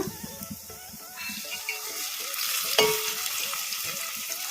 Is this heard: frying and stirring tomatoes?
yes